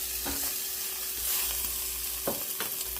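Bacon sizzling in a pan on an electric stove, a steady close crackle with a few scraping stirs and light clinks, no voices.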